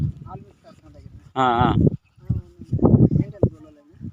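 A goat lets out one loud, wavering bleat nearby from a herd of about two hundred, between stretches of people talking.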